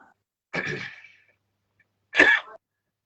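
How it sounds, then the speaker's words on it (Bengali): Two separate coughs, the first a longer rasping throat-clearing cough and the second a sharper, louder burst a second and a half later, close to the microphone in an otherwise quiet room. "সরি আমার একটু কাশি এসে গেছে।"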